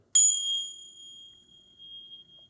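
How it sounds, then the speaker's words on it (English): A single bell is struck once, giving a sharp clear ding that rings out and slowly fades over a couple of seconds. "You can use a bell."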